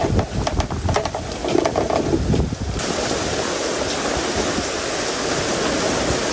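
Rain pours down at a seaside hut during a crab-catching outing, a dense steady hiss of falling water mixed with rushing wind, loud and close throughout, no talk.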